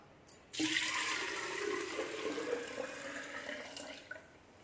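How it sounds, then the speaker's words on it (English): Vinegar poured into a small crock, a sudden start of splashing liquid that settles into a steady gurgling stream, close and clear, tapering off near the end. "So we'll just pour that into its little crock."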